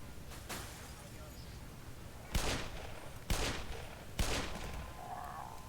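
Several sharp bursts of gunfire ring out in the Half-Life Xen video game, spaced about a second apart, with a faint earlier shot and a low background hum.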